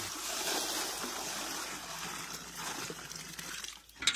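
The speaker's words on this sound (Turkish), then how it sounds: "Suyu çıkarıyoruz. Şurada Bu olağa döküyoruz şimdi suyumuzu." Water drawn from an old, fairly shallow well pours out steadily into a container, a close, continuous splashing gush that fades and trickles off at the end, with no talk.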